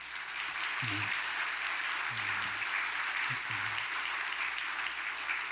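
Church congregation clapping to welcome new members during a Sunday morning service. Soft, even clapping fills the room at a low level, with a few low murmurs beneath it.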